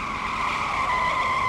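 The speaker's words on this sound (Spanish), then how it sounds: "Un auto había embestido al profesor Girafales, con tanta fuerza" Car tires shriek in a sustained, loud, high-pitched skid just before striking a person, a single unbroken squeal heard alone and close.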